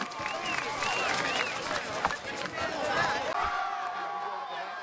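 A boisterous crowd at a high school football game, Trion versus Armuchee, rises in a standing ovation for the Bulldogs as they take the field, with sustained cheering, clapping and whistles filling the stands at a steady, loud level.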